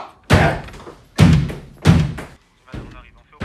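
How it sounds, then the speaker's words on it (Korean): Heavy fists pound on a house door late at night, five loud, booming thuds in a slow irregular series, close and forceful as if trying to break it down, with a shouting voice around the blows. "어느새 집 문을 부술 듯 내리치며 문을 열라고 소리치고"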